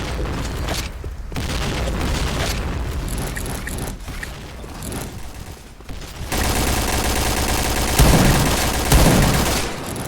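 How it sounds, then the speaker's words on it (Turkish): A bomb blast during a Point Blank shooter match, a loud sustained roar of explosion and rumble amid heavy gunfire. It swells sharply in the second half, with no talking. "Nasıl bir bomba ya?"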